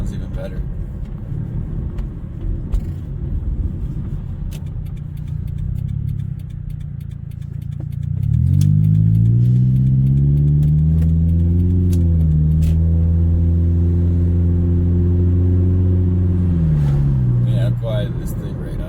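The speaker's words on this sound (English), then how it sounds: "Engine's all warmed up." A warmed-up 2009 Pontiac Vibe engine runs steadily, first a low rumble, then rising to a stronger, steady tone from mid-clip onward with someone talking over it.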